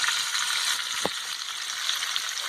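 Steak sizzles in a hot pan, a steady close frying crackle with one brief tap partway through and no talking.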